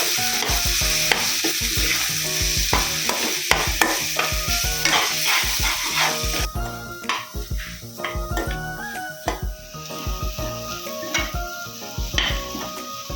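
Eggs stirred and fried together with chopped beans in a hot pan for a Tamil beans poriyal: steady close sizzling with repeated spatula scrapes and knocks against the pan, continuous throughout and with no talking.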